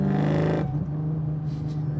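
A 700HP Terminator Cobra engine revs loud and close, its strong growl dropping into a steady rumble after a shift, with small crackles and pops in the exhaust.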